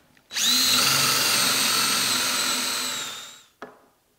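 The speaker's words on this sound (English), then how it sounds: "All I'm going to do is just drill for these hinges." A power drill boring Euro hinge holes with a jig in a bathroom vanity build: one loud, close, steady whine lasting about three seconds, then winding down to a brief clunk.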